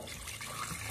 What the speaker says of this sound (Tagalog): lagyan natin balik ng sabaw guys para marami-rami